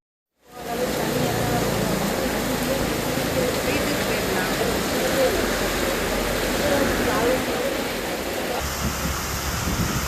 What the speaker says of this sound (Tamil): ஒரு மணி நேரத்திற்கு மேலாக கனமழை பெய்தது இதனால் சாலைகளில் மழைநீர் பெருக்கெடுத்து ஓடியது